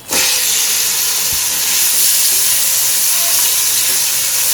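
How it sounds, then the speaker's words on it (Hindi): Marinated chicken dropped into hot oil in a wok bursts into a loud, steady hissing sizzle that starts abruptly and holds close and constant throughout. "ऑयल को गरम करेंगे थोड़ा सा। जी तो इसमें ये मैरिनेशन किया हुआ चिकन ऐड कर दूंगी"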